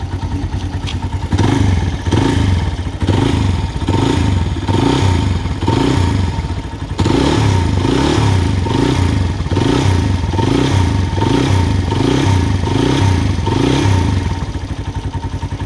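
A Phantom 200 motorcycle engine runs steadily up close, with a repetitive knocking clatter pulsing through its rhythm, loud and continuous.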